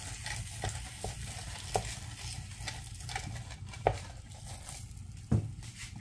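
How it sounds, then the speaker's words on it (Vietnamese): Butter melts and is spread around a hot pan while making a Vietnamese sticky rice snack, a soft continuous sizzle broken by a few sharp scraping taps of a utensil. "Bơ nó chảy ra nè, giờ mình thoa đều nó ra."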